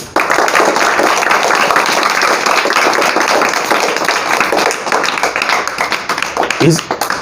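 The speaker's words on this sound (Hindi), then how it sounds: "एक बार जोरदार उनके लिए तालियां बजाएंगे" Children at an online Saturday school assembly clap for Devendra Pal Singh, a brisk burst of close, somewhat uneven clapping that runs loudly for several seconds before thinning out, with a voice briefly near the end.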